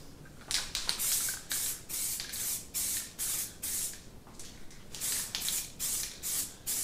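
Short repeated bursts of filler primer hiss from a spray can onto a plastic bumper, about a dozen evenly spaced sprays with brief gaps between them, close and fairly loud, with no voices.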